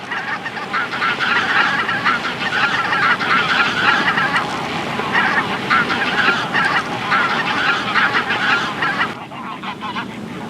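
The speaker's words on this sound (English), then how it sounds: "These two greater white-fronted geese were seen in an open field" Two greater white-fronted geese in an open field give a continuous, dense stream of honking calls. The calls are loud and close and overlap throughout, then drop off near the end.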